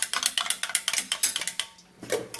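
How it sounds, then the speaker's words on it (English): A spoon stirs apple cider vinegar into a drink, clinking against the glass in a quick, regular run of bright taps that stops abruptly, followed by a faint shuffle. "Then you basically just give it a stir."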